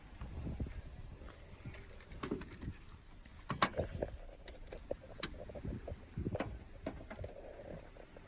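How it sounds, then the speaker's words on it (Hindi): Opening the bonnet of a Toyota Urban Cruiser: scattered quiet metallic clunks and rattles, with one sharper knock midway as the latch releases and the hood is lifted, fairly faint and close. "आइए बोनेट खोलते हैं और देखते हैं पेट्रोल इंजन।"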